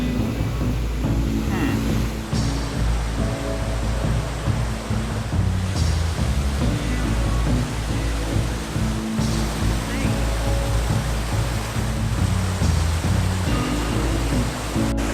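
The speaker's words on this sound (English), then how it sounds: "Supposed to be a nice creek that feeds into the Feather River here." Loud, continuous rushing water fills the scene, a steady broadband roar of a forest creek feeding the Feather River flowing close by, with some talking faintly mixed in.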